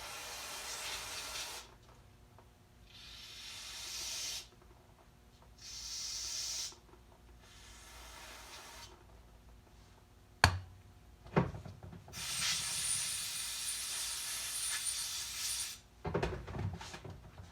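Bursts of spraying and compressed air hiss through small Keihin FCR carburetor parts from an early CRF, including the accelerator pump cover, in several separate blasts with brief sharp knocks between them, fairly faint overall.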